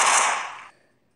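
A single AK-74 gunshot from a Minecraft PE gun mod: one sharp, bright crack that decays quickly into silence, alone and close.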